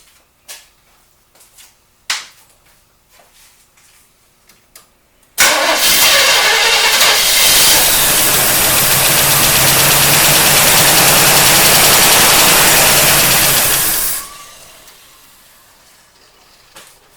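A few clicks and cranks, then the engine of a 1972 Camaro barn find, unrun for 19 years, fires up loudly and roars steadily for several seconds before cutting out.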